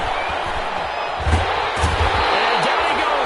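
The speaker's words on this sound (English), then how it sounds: "The crowd getting into it as we come up on a big 3rd down." A stadium crowd in an EA Sports football video game on PS4 roars steadily as the Rams defense faces a big third down, swelling in a couple of brief surges over a low rumble.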